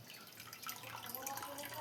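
Water drips and trickles steadily from homemade paneer curds as they are lifted to drain, a soft continuous liquid patter heard close and alone.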